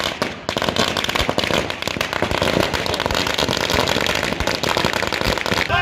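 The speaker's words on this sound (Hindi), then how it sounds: "नाम की घोषणा होते ही आसनसोल में पटाखे फोड़े गए।" Firecrackers set off in Asansol to celebrate a candidate's announcement, a loud, dense, continuous crackle of rapid pops and bangs that goes on without a break.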